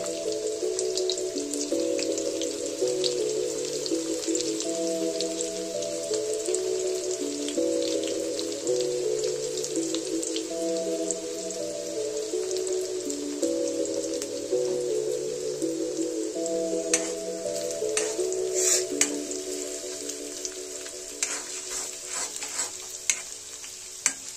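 White onion sizzling in a pot for vegetable soup, a continuous close crackle with light clicks of stirring, overlaid by a soft tonal melody running throughout, no talking.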